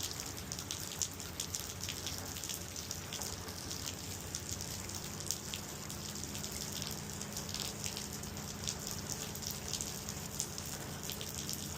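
A softwash sprayer wets a surface with chemical mix, giving a steady, close hiss of spraying liquid spattering on the surface throughout, with no talking.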